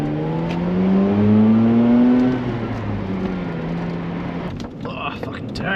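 A Mazda RX-8 with a rotary engine drives along, its steady engine tone rising then easing off, heard from inside the car with people talking over it.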